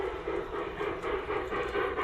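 A model train rolls around a model railway layout with a steady, rhythmic rumble and faint repeating clicks, close and continuous, with no talking.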